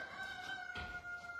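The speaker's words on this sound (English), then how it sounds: "those aren't my chickens, those are the neighbors" Neighbor's chickens heard from a yard, a rooster's drawn-out crow with a steady tonal line under soft clucking, moderately distant, with a dull thunk partway through.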